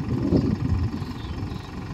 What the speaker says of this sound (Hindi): ट्रैक्टर खेत से वापस जा रहा है